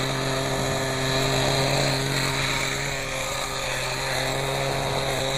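A small .18 nitro RC helicopter engine runs close and loud with a steady, buzzing high-pitched whine that holds an even pitch and shifts only slightly across the few seconds.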